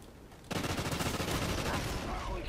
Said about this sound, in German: Oh, wow, da hat einer auf mich geschossen.